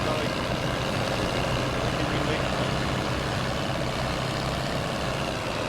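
A Massey tractor engine in Farming Simulator 25 drones steadily at a constant, loud level, a dense low rumble without pauses.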